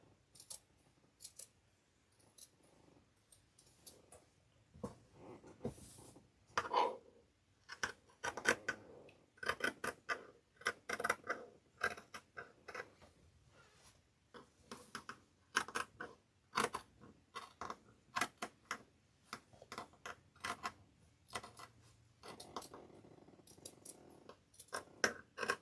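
Scissors snip and trim a grapevine wreath: quiet, crisp cuts come in uneven clusters, with light rustling of the vines between them and no talking.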